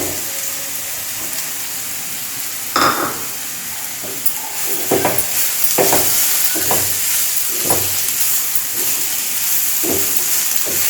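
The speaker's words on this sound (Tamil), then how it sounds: "இதை துருவுனது இதில் போட்டு கொஞ்சம் வதக்கிக்கலாம்" Grated sweet potato sautéing in ghee, a low background sizzle broken by repeated spoon scrapes and knocks against the pan at irregular intervals, close by with no talking.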